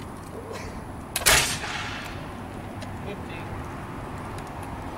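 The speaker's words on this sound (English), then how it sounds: "Fire, and I'm using musket cartridges" Single musket shot fired with paper musket cartridges at an outdoor demonstration, one sharp loud blast that decays quickly into a steady background hiss, no talking.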